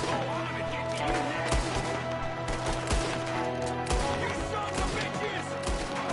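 Video game gunfire crackles in a dense mix of shots, thuds and bursts under steady game noise and music, with a player talking over the action.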